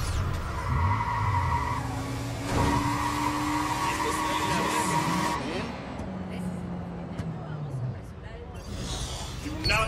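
Tires squeal in a long, wavering skid as a car engine revs, while people talk loudly over it.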